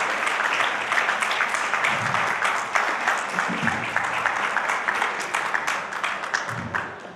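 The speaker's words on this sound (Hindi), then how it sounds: "आप लोग तालियां बजाते ना और जोरदार तालियां बजाएं" An audience at a hotel event in Indore claps steadily for a man stepping onto the stage, a continuous even wash of applause throughout with no pauses.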